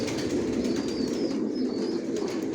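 Johnson line racing pigeons coo in a steady, overlapping low murmur, close and continuous, with no voices over it.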